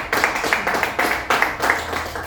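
A group claps together in short rhythmic bursts at a religious Bible quiz gathering, several sharp rounds of fairly loud, close clapping with brief pauses between them.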